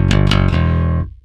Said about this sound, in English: Actually, here I'm using the neck pickup right now.